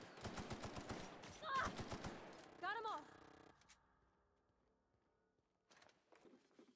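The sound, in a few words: gunfire in video game The Outer Worlds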